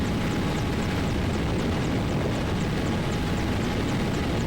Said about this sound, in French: c'est un hélicoptère de guerre